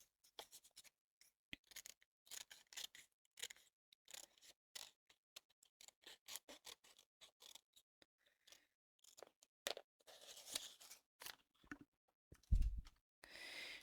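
Quiet, close snipping of scissors trimming excess paper from around a craft charm in a run of small irregular cuts, with brief pauses and faint handling noises.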